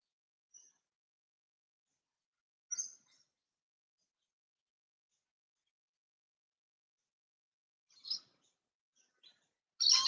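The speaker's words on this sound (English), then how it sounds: "Just allow yourself to listen to the birds" A few sparse, faint bird chirps at dawn break long stretches of near silence, with a slightly louder call at the end.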